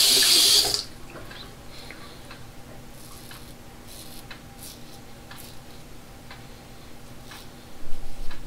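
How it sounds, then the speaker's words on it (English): Cold water gushes loudly from a bathroom tap during a wet shave for a moment, then cuts off, leaving a quiet room with faint small clicks. "let's wipe it down with cold water here"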